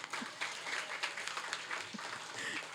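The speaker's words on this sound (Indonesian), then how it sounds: "Yang kedua, tepuk tangan dulu." A church congregation claps together in steady, moderately distant applause that continues throughout without voices.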